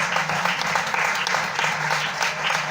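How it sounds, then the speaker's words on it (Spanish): A Spanish-speaking church congregation applauding in praise during worship, a thick continuous roll of many hands clapping, loud and even from start to finish with a low hum underneath. "Denle ese aplauso a Jesús."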